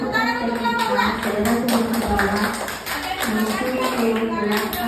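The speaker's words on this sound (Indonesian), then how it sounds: "Tepuk tangan untuk kelompok 2." A classroom of students applauds their classmates in group 2, steady rapid clapping from many hands filling the room, with voices talking over it.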